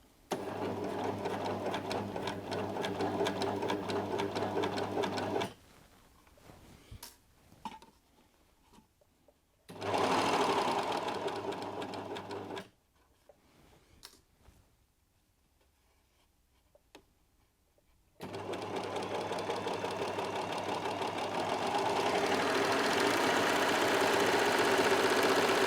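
Brother 3034D overlocker stitching fabric with the piping foot fitted: loud, rapid mechanical whirring in bursts of several seconds, separated by quiet pauses with small handling sounds, and no speech.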